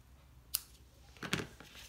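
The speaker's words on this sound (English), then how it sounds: "Grabbed my ribbon scissors." Ribbon scissors trim ribbon ends on a Stampin' Up! notecard gift card holder, two quick quiet snips close by, the second a little fuller, in a hushed room.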